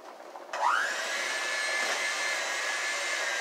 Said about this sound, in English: now with my mixer, I'm going to start on low